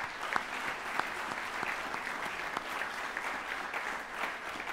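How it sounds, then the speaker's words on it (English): An audience at a performing arts centre applauds a symphony orchestra's chief guest in a steady, fairly distant round of clapping, with a few sharper individual claps standing out from the even wash. "May we first begin with a round of applause for my very dear friend Khushru Santok."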